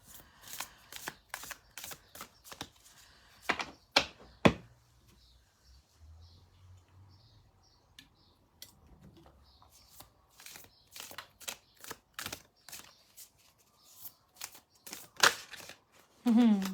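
Psychic reading cards are shuffled in a series of quick, sharp riffling bursts with pauses between, close and fairly quiet, while someone talks softly in the gaps.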